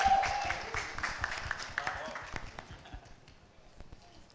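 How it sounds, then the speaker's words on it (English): Applause from the audience at a launch event for the web series Mirzapur, honoring its cast and crew, starting fairly strong and fading away over a few seconds, with scattered claps and some background voices. "can we have a huge round of applause for the entire cast and crew of Mirzapur?"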